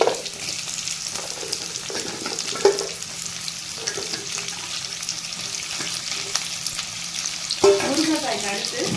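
Drumsticks tossed into sautéed onions frying in a pan for a mixed vegetable masala, with a constant hiss of frying and occasional spoon knocks, close and moderately loud, with no voices.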